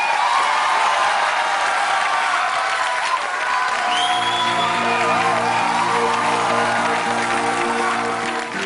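A live audience in Ranchi applauds, a loud, dense wash of clapping with scattered whoops and cheers that runs the whole stretch, while a steady musical tone swells in underneath partway through.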